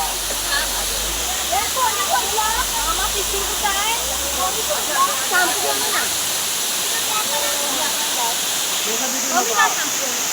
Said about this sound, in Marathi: आम्ही इकडे धबधब्यावर आलेलो सगळेजण